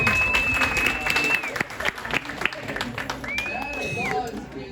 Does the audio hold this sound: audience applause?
yes